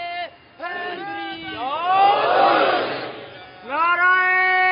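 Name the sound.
crowd shouting a religious slogan in response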